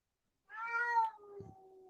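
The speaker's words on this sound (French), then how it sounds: "Et mon chat est d'accord, si vous l'avez entendu." A house cat meows once nearby, a clear, drawn-out cry that fades into a quieter trailing tone in an otherwise silent room.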